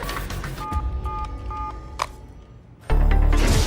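Telephone keypad dialed in a scene about calling a transport depot: a quick run of short electronic DTMF beeps, followed by a sudden loud burst of noise.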